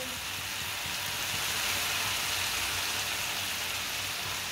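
Turnips cooking in a pan on a low stove flame, with a small amount of water sizzling off as a soft, steady hiss throughout.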